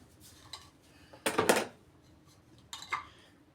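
Onions tipped into a bowl of rice for rice fritters, with a short burst of utensils and dishes clattering in the middle and a lighter clink near the end, close and otherwise quiet.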